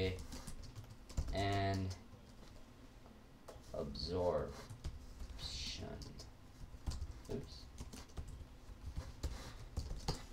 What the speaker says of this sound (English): My typing is terrible.